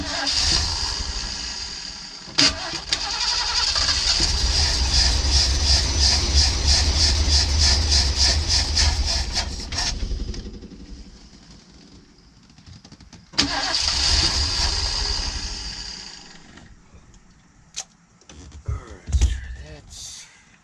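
A custom 1979 Ford Pathfinder Quadravan 4x4 van engine cranks with a rapid, even starter whir for several seconds, then turns over again briefly. Between attempts there are quieter gaps with some clicks and a voice.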